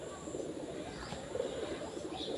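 Soft pigeon cooing, low and repeated, against a steady background hum with no talking.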